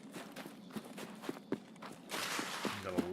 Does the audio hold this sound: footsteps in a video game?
yes